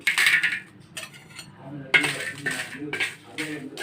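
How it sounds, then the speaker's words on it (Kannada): Dry red chillies and curry leaves fry in a pan for obbattu saaru, with bursts of scraping and clinking from a metal utensil stirring against the pan, coming in irregular clusters. "ಆರಿಂದ ಏಳು ಒಣ ಮೆಣಸಿನ್ಕಾಯಿನ ಹಾಕಿ ಚೆನ್ನಾಗಿ ಹುರ್ಕೊಳ್ಳಿ"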